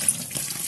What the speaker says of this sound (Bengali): আর একবার ধুয়ে নিবি